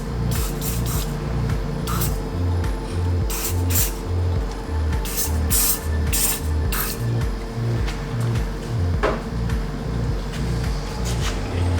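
Silicone lubricant is sprayed while working a DIY dual-piston brake caliper compressor tool: a series of short, sharp hissing bursts at an uneven rhythm over a constant low mechanical hum, close by.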